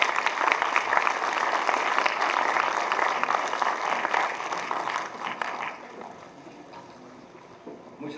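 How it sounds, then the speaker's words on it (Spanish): Warm applause from a conference audience for a speaker honored for work in agriculture and livestock, loud and steady for several seconds before gradually thinning and fading. "Un fuerte aplauso, por favor"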